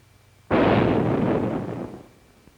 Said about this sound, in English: Another camera shot of the explosion shows where the upper half went.